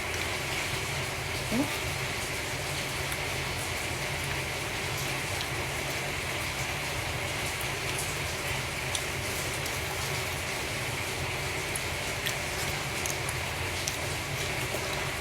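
Steady rain hisses continuously across the whole stretch, a dense, even wash of patter with no pauses.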